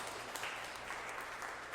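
Applause from a congregation during a Catholic Mass in a church, a steady dense patter of many hands, moderately distant and fairly quiet, continuing without a break.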